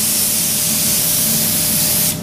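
Paint spray gun spraying paint in one loud, steady hiss close by, cutting off at the end.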